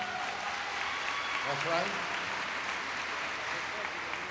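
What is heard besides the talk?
audience applause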